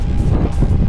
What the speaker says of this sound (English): Just too windy